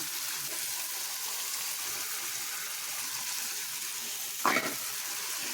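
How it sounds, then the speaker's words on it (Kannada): Hog plums frying in hot oil in a pan, a steady broadband sizzle running throughout, with a brief louder splash or stir near the end. "ಇದು ಎಣ್ಣೆಯಲ್ಲಿ ಹುರಿದು ಬೆಂದು ಬಂದಿದೆ"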